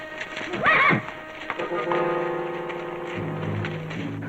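A horse gives a sharp, close whinny, followed by scattered hoof clops on hard ground in a quiet outdoor scene.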